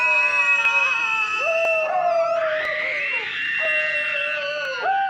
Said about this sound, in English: Sally releases a blood-curdling scream